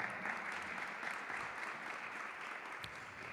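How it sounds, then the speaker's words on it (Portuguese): An audience at a panel event on regulatory agencies applauds, a dense, steady round of clapping from a room full of people, with no voices over it. "Uma salva de palmas."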